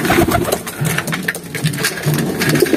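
Pigeons coo and flutter close by in a breeder's loft, their layered, repeated calls overlapping without a break and sometimes sounding like birds squabbling.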